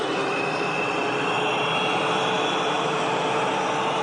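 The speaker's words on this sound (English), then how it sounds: "He's about to tell me to rev up my engines." Jet aircraft engines revving up on an aircraft carrier deck in a video game, a loud steady roaring hiss with a faint whine, continuous and unbroken throughout.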